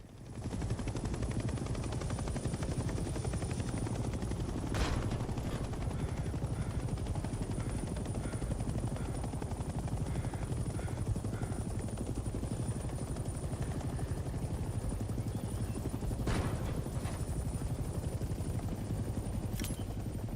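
Helicopter rotors drone loudly and continuously as the aircraft hovers and descends to a landing zone in the Hell Let Loose Vietnam video game, a dense steady thrum broken by a couple of sharp distant gunshot cracks.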